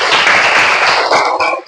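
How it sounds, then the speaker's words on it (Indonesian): Applause from a 5th grade class in a science lesson, a short loud burst of clapping that breaks into a few scattered claps before stopping. "Tepuk tangan untuk kalian."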